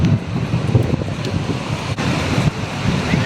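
Sea waves breaking on a beach, a steady rushing surf heard up close under heavy wind buffeting the microphone.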